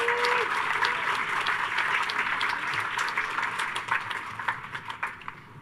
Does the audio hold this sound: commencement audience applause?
yes